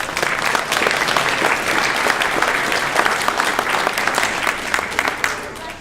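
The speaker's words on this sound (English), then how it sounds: "So give them a round of applause" A crowd at a video game hall of fame induction ceremony gives a sustained round of applause, many hands clapping in a dense, even roar that fades slightly at the end.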